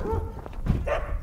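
Sled dogs trained for the Mongolian winter bark and yip up close, with short overlapping calls and a whimper heard near a yurt setting.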